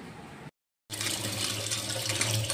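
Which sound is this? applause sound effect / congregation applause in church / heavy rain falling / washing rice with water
washing rice with water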